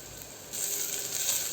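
Onion, green chili and curry leaves frying in oil with cumin for a green gram gravy, giving a steady close sizzle that swells louder about a third of the way in and stays bright and hissy.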